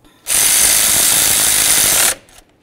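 A ratchet tightens nuts on the driver's side bracket during a throttle position sensor replacement on a 1994-2004 Chevy S-10, heard as one loud, close, continuous buzzing burst of about two seconds.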